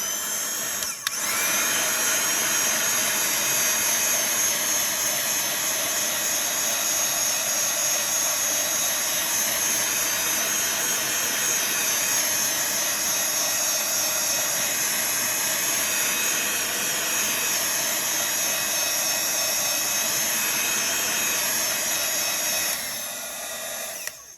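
A loud, steady blowing roar from a heat tool heat-setting ink runs continuously for over twenty seconds, then cuts off near the end.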